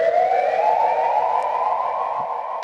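Dub siren effect from Ableton for live reggae dub mixing, a loud continuous electronic tone that sweeps slowly upward with a steady, wavering pitch, heard alone.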